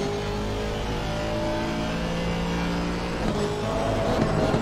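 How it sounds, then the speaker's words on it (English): An Aston Martin V8 race car in Assetto Corsa Competizione drones steadily as it heads out toward a turn, a loud, continuous engine note that roughens slightly near the end, with no talk over it. "we just listen into the sound of that V8 engine roar as he heads out to turn number four"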